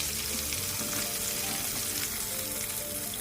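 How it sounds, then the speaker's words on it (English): Chicken drumsticks deep frying in very hot oil: a loud, dense, steady crackling sizzle that goes on without a break, close up and with no talk. "Now we've got a wicked hot fry going here."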